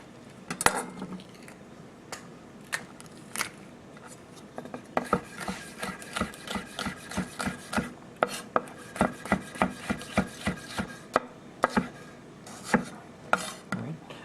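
A knife chops food on a cutting board while a quinoa salad paella is prepared. A few scattered strokes give way to a steady, close rhythm of repeated chops.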